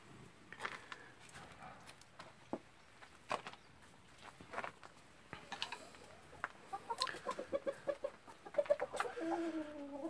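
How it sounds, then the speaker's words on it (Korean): Cheonggye (green-egg) hens in a backyard coop give soft, scattered clucks and short calls, faint and fairly close, with a few light taps and rustles between them. No one speaks. "우리 집 청계"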